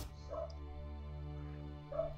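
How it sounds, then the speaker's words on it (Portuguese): A dog barks and whimpers in the background during Witcher 1 gameplay, two short, faint yelps about two seconds apart over a steady low game hum. "Pois é, tem cachorro latindo"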